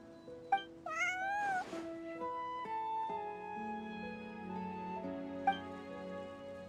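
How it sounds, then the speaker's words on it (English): A cat meowing in the Genshin Impact video game, several distinct rising mews spread over a few seconds with a quiet melodic tone underneath, close and clear with no talking. "Meow meow."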